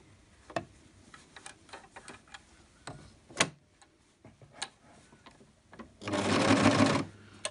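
Pfaff Hobbylock 2.5 four-thread overlock sewing machine sewing a seam, a rapid loud whirring run of about a second near the end, preceded by scattered soft clicks and taps of handling.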